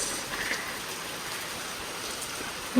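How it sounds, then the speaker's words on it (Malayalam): A sudden rain shower hisses evenly throughout, a soft continuous wash with scattered drops, fairly quiet and with no voices. "പെട്ടെന്നുള്ളൊരു മഴയാണ്."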